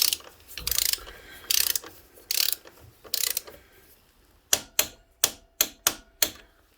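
A socket wrench ratchets a bolt tight on the gearbox of a Polaris Ranger 570 EFI utility vehicle. Several rushing strokes come first, then six sharp, evenly spaced clicks nearby, with no talking.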